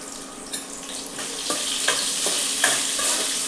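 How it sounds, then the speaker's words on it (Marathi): Ginger-garlic-chili paste, fenugreek seeds, cloves and peppercorns sizzling in hot oil while being sautéed for kadhi, a steady close frying hiss with a few brief stirring clinks. "हे थोडं परतून घ्यायचं"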